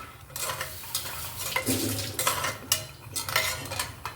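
Peanuts fry in hot oil in a pan for a dal khichdi, giving a steady close sizzle broken by repeated scraping stirs and light clinks of a spoon against the metal pan, with no talking.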